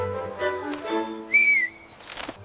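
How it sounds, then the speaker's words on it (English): A cartoon character lets out an impressed whistle at a giant pumpkin, a short, bright rising-and-falling tone heard clearly after some softer tonal sounds. "Nick whistles, impressed by how huge it is."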